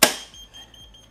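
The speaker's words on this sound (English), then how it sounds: "That's the alarm going off because I haven't turned it on yet." The alarm on a Z1-D Plus Roboscooter self-balancing vehicle, sounding one sharp loud electronic chirp that decays quickly into a faint ringing tone, no voices.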